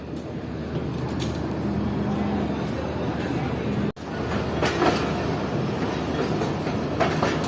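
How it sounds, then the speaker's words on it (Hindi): Shah Hussain Express pulling out of Multan Cantt railway station, a steady loud rumble of wheels and carriages with faint clatter and a brief dropout midway, heard from inside the train. "हमारी ट्रेन निकल रही है मुल्तान कैंट रेलवे स्टेशन से।"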